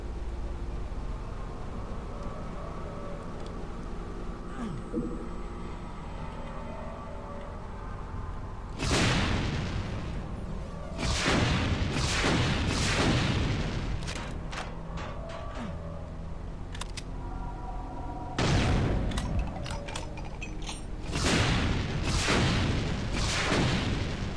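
Rocket explosions in Brutal Doom: a low droning background, then two clusters of heavy booming blasts fired in quick succession, loud and close, with no talk.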